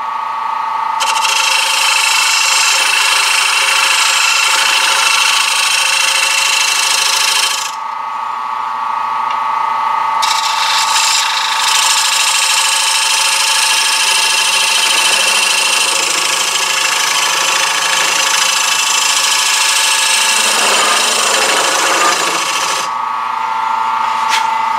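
A lathe cuts a dovetail while turning a plate, giving a steady high whine with a constant machine hum that briefly cuts out and resumes.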